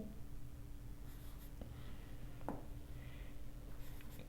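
Pen or marker strokes on paper while working a differential calculus proof, quiet scratching with a few short marks under a steady low hum, no talking.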